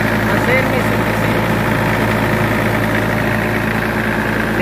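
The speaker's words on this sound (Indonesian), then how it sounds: "Nah, ini gensetnya, Lur. 20 kVA dari RK Audio." A 20 kVA generator set with a Mitsubishi engine idles in a steady, loud, low drone with an even mechanical vibration and constant hum, running close by without pause.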